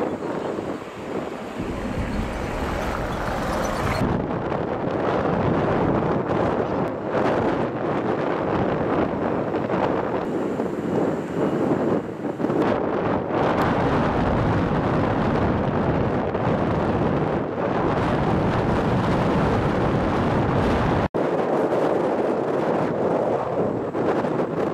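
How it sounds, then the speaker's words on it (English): Strong wind buffets the microphone near the Al Mouj golf course in Muscat, a steady loud roar with gusty surges for most of the stretch and a brief drop near the end. "Wind seems to be blowing"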